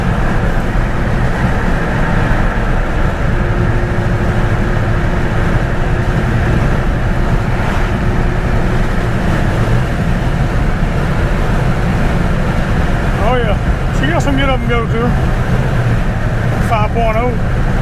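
Old Ford OBS pickup truck with a 5.0 302 V8 and worn tires driving on the road, a steady low engine and road rumble throughout, with a few brief voice-like warbles near the end.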